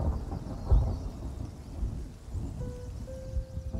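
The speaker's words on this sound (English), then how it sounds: "Is that thunder? Is that Rust thunder? Is it raining in Rust?" Thunder rumbles with steady rain in the online survival game Rust, a low rolling boom near the start over a continuous rainy wash, with no talk over it.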